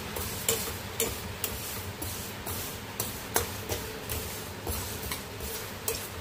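Mung dal frying in a pan while being stirred continuously, a low sizzle punctuated by regular scraping knocks of the spoon against the pan, close and fairly quiet, with no speech.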